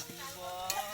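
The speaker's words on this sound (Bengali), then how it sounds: "আলু ভাজা চলছে এখন" Potatoes fry in a pan, giving a soft steady sizzle with a faint scrape of stirring, heard briefly and at low volume.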